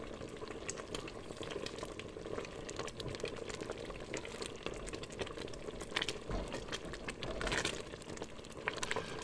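Cranberries simmering in a pot for cranberry sauce, a soft continuous bubbling and popping with faint gurgles, close and low in level, with no talk.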